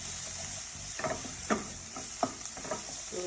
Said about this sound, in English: So just 2 minutes for it to just saute. Those are spring onions and the round bulb onions.